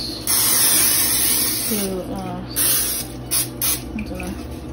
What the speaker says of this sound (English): And then I spray a little bit of more oil